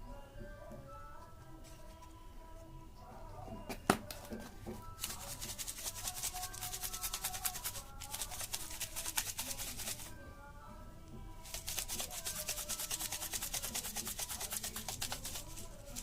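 Powdered eggshell being stirred into a homemade organic plant fertilizer, giving a steady gritty rubbing and scraping that runs throughout at moderate volume, with a sharp knock near the start.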